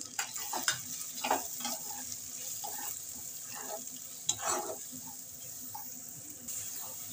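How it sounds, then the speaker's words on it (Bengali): Chopped tomato with ground cumin, coriander, dried chilli and Kashmiri chilli powder fries in a karahi for chicken, a soft continuous sizzle broken by repeated scraping strokes of a spatula against the metal. "আমি এবার টমেটো কুচিটা দিয়ে দিচ্ছি। এর সঙ্গে আমি জিরের গুঁড়ো, ধনের গুঁড়ো, শুকনো লঙ্কার গুঁড়ো আর কাশ্মীরি লঙ্কার গুঁড়ো দিয়ে দিচ্ছি।"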